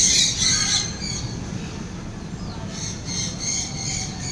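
Harsh, high-pitched budgerigar squawks in bursts inside a biodome at Ocean Park, loud at the start, then repeated chattering calls over a low background rumble.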